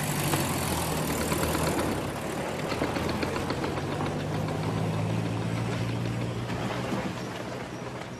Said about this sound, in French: Tu vas le faire fuir avec ton moteur.